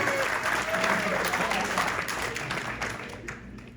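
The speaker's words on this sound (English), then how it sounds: "Give her one more round of applause." Many hands clap at a Tucson New Year's magic show for an onstage helper, a dense, fairly close burst of applause that gradually thins and fades toward the end, with faint voices underneath.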